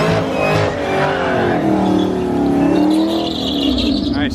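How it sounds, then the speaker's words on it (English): A muscle car, either a Camaro ZL1 or a Mustang GT500, does a burnout at a street race, its engine roaring loudly and steadily with squealing, skidding tires close by. "That was a good burnout."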